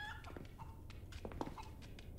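Chicken clucking in Resident Evil 4's Separate Ways episode, a few short squawky calls scattered over quiet game ambience, fairly faint and close.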